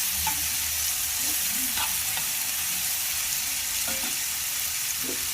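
Boiled green peas fry and are stirred in a pan for a vegetable rice dish, giving a steady hiss of sizzling oil with soft scraping strokes of a spoon at intervals.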